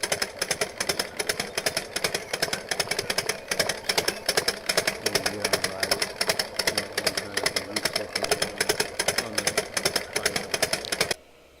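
A small, basic bike motor runs steadily and loudly, with a rapid, rattling putter that continues unbroken for several seconds before cutting off abruptly.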